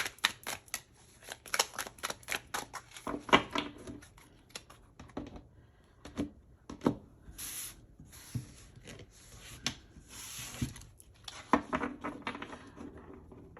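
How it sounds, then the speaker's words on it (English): Tarot cards being shuffled by hand, a series of quick, close papery riffles and soft clicks in irregular bursts with brief pauses between, no voices. "So let's shuffle them again."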